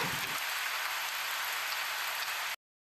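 Heavy rain in the Sakura School Simulator video game pours as a loud, steady hiss that stops abruptly, with no voices.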